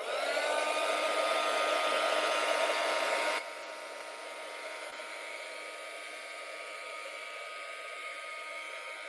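A hair dryer blowing on silver artwork, a steady close whir that drops to a lower, quieter setting partway through and then runs on evenly, with no talking.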